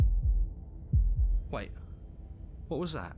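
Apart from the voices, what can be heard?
heartbeat in the video game Slay the Princess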